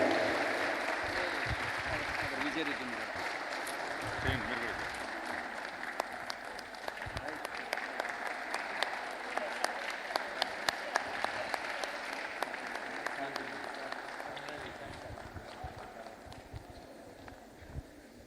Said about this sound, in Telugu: గట్టిగా చప్పట్లు కొట్టి అభినందన తెలియజేద్దాం.